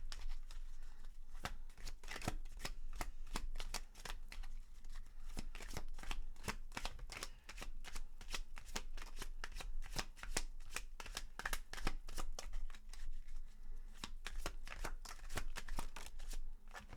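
Deck of tarot cards riffled and shuffled over and over, a dense run of crisp flicking snaps at a steady fast rhythm, close and fairly quiet, no talk.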